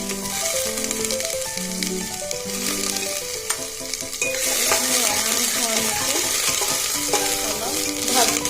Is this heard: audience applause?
no